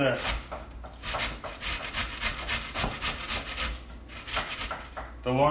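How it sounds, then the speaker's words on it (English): Scrubbed potatoes are grated on the thick side of a box grater for latkes, giving rhythmic rasping strokes, close and loud, repeated about a dozen times with a short pause near the end. "A box grater, I'm going to use the thick part of the box grater"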